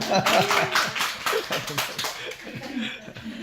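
A church congregation claps in scattered, uneven bursts to welcome a first-time attendee, with chuckles and talking mixed in throughout.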